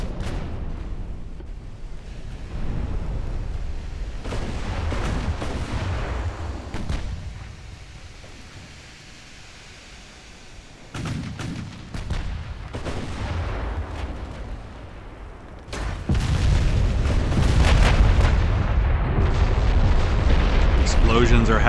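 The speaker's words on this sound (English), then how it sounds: "Explosions are happening aplenty." Naval battle in the Ultimate Admiral: Dreadnoughts game, with heavy artillery fire and explosions booming in repeated loud bursts, deep rumbling blasts rolling over each other and swelling louder near the end, with no talk over them.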